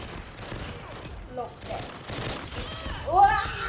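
Bursts of gunfire from the mobile shooter game Call of Duty Mobile, with pistols in use, crackle at moderate level under the mix, while a voice talks over the shots.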